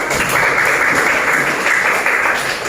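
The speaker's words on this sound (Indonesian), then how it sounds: "Oke, tepuk tangannya dong." Brief audience applause at an Indonesian class or gathering, a steady wash of clapping hands without pause, moderately loud and close.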